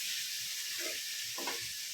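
Tadka spices frying in hot oil give off a steady, broad sizzle, with a couple of brief stirring bursts partway through. The sound is close and continuous, with no talk.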